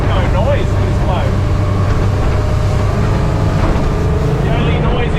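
Steady low drone of a 300 hp 6.2-litre V8 inboard engine on a 23 ft Caribbean boat cruising on water, a constant loud rumble with wind and water noise, continuous throughout.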